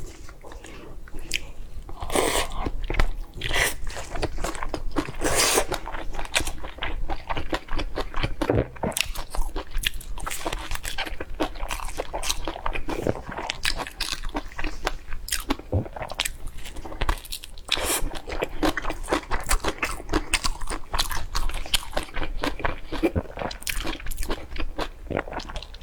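Close-up eating of a dish with vermicelli, greens, carrot and egg: repeated crisp bites and wet chewing squishes in a steady rhythm, with no talking.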